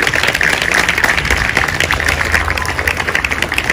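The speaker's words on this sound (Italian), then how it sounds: "Un bel applauso per lei" Applause at a gymnastics award ceremony in a gym, a sustained wash of clapping from a crowd with a low rumbling background, steady and loud throughout.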